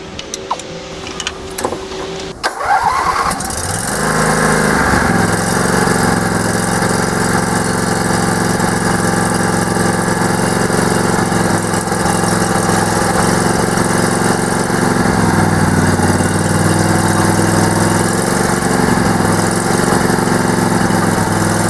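An old tractor engine under rebuild starts after a few seconds of clatter, then runs steadily at a loud, close idle with a constant drone and a slight shift in tone partway through.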